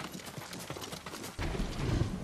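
Horse hooves clip-clop in Ghost of Tsushima, a steady rhythmic trot of close footfalls that grows louder and heavier partway through, with no voices.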